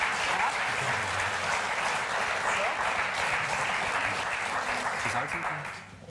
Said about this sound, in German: Einen dicken Applaus für Alexander Hermanns Pommes frites